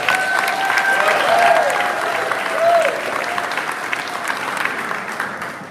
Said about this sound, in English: a nice round of applause for our interim superintendent